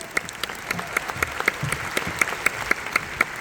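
A seated audience at a recognition event applauds steadily. The clapping is loud, continuous and fairly near, with sharp individual claps standing out above the crowd's rippling wash.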